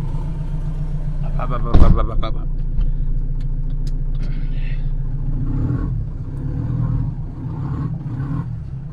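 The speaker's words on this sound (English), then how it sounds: "So I'm gonna pull the Transit forwards now" An abandoned Ford Transit turbo van rolls forward with a low, steady engine rumble and a sharp knock near the start, while a voice talks faintly over it.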